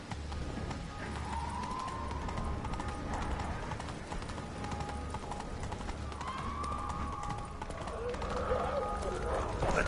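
Roach, a horse in The Witcher, gallops steadily with rhythmic clip-clopping hooves over a continuous ambient bed, with brief higher tonal sounds drifting through.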